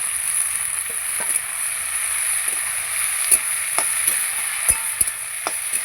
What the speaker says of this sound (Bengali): কুচনো পাট শাকটা দিয়ে দিচ্ছি